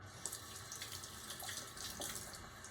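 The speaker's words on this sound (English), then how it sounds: "now I'm gonna add about a 1/4 cup of water" Tap water running into a bowl of sourdough dough in a home kitchen, a soft continuous splashing trickle with small spatters, heard close but faint.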